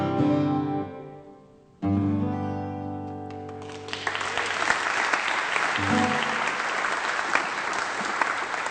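Applause from a live concert audience swells after the music stops, a dense steady patter of clapping that carries on for several seconds with a brief murmur of voices underneath.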